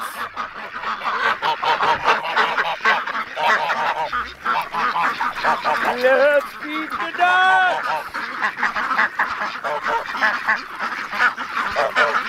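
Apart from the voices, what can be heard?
hungry ducks quacking on a farm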